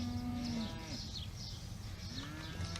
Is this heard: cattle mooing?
yes